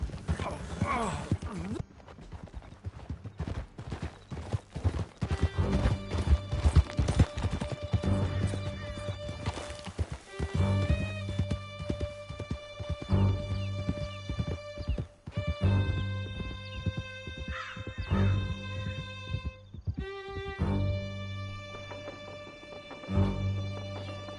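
Horses galloping in Red Dead Redemption 2, their hooves clip-clopping in a steady rhythm with occasional neighs, all beneath music and spoken dialogue.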